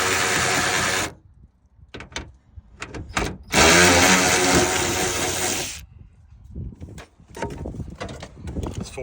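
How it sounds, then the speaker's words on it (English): An 18-volt electric ratchet with a 4-inch extended neck spins nuts off junkyard car parts in two loud whirring bursts, with short clicks, rattles and handling noises in between. "Thankfully, I have this 18-volt electric ratchet right there."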